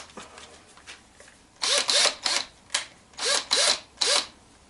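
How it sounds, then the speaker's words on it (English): A power drill whirs in about seven short, sharp bursts, close by, each with a rising whine as the bit bites into aluminium. "I'm just going to drill a hole in here."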